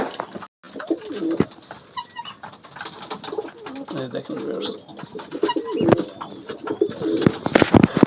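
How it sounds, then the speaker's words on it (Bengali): Pigeons in a loft coo softly while feeding, low repeated calls mixed with pecking and rustling up close, as someone talks briefly over them. "কবুতরগুলো মাশাআল্লাহ সবাই সুস্থ আছে আলহামদুলিল্লাহ,"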